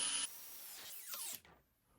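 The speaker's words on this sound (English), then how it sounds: "Just put that little pressure on the drill. You see it's cutting, guys." A power drill bites and cuts into a part of an ECX Barrage 1/24 RC car, giving a close, brief high-pitched whir that shifts pitch as the bit loads up, then stops abruptly.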